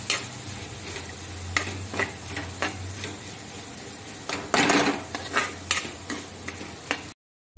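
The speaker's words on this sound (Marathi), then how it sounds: "आता आपण छानपैकी कांदा परतून घेऊया" Chopped onion and coarsely crushed peanuts sautéing in a pan: a soft steady sizzle under repeated close scrapes and clinks of a spoon stirring against the metal, ending abruptly.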